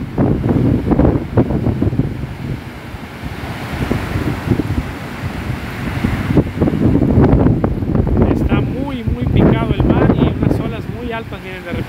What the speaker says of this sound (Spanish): hasta acá se escuchan las olas como rompen ahí